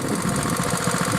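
A WEN plate compactor's engine idles with a steady, rough, throbbing rumble, loud and close, running alone without any voices.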